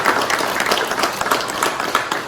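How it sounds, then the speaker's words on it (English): A crowd applauds steadily and loudly at the American debut unveiling of the 2021 MV Agusta Superveloce motorcycle, with dense, even clapping and no talk over it. "I want to give a round of applause to the museum"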